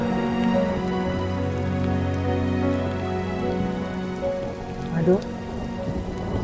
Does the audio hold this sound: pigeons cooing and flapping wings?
no